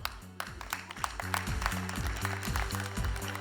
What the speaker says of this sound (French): Joël, grand applaudissement.